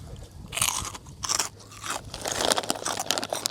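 Crispy fried pork rinds crunched in bursts of loud, close bites and chewing, alone without talk.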